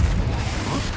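A Confringo spell explodes in Hogwarts Legacy, a brief loud booming burst with a heavy low-end rumble that lasts about a second.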